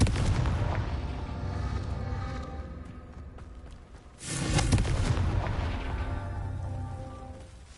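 Fiery Confringo spell blasts in Hogwarts Legacy, a deep booming burst near the start that swells again midway with a second loud explosion, rumbling and crackling over a dense game background.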